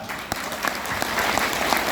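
A loud, steady round of applause from an audience at a YMCA club business talk, dense clapping sustained for the whole two seconds with no speech on top.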